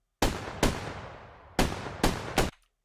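A designed gunshot's body layer sounds alone as five loud, sharp cracks, each trailing off in a broad, noisy decay, with uneven gaps between shots.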